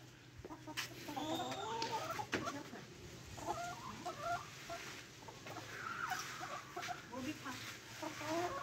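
A hen of a fine laying breed, close to laying eggs, clucks in repeated bursts nearby. Other farm birds are faintly audible behind it, and someone talks over the clucking.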